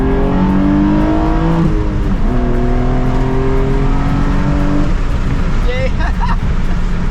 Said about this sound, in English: We're in third, let's drop it down to second,